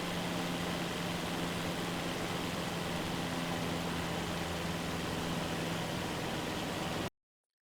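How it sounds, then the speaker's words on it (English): Light airplane engine throttled back to idle during a simulated engine failure, a steady low droning hum with faint tonal lines over broad wind and cabin noise, continuous and fairly loud until it cuts off near the end. "with the throttle at idle simulating an engine failure, you can't"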